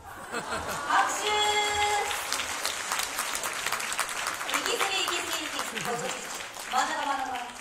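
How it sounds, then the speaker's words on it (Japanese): Applause from a live audience at a Hiroshima kagura performance, a steady wash of clapping lasting several seconds with voices and calls over it. "拍手。"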